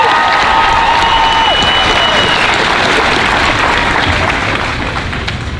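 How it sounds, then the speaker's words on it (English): A high school graduation crowd claps and cheers in a loud, dense burst that fills the space and then begins to thin slightly toward the end, with scattered voices mixed into the applause. "Let's give her another round of applause."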